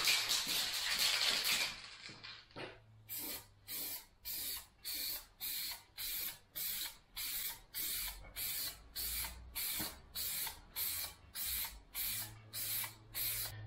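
A car panel being spray painted: a long continuous hiss is followed by a steady run of short, evenly spaced spray bursts about every half second, close and fairly quiet.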